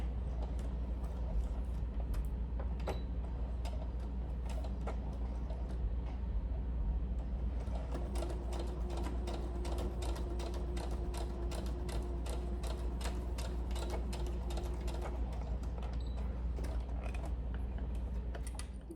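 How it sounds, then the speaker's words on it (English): A home sewing machine runs a lengthened straight stitch along a garment shoulder seam, its rapid regular ticking chatter steady and close for most of the stretch over a low motor hum, with no talking. "I'm just using my regular sewing machine, a lengthened straight stitch"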